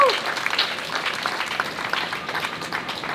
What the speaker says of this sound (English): John's campaign, yes, please clap him.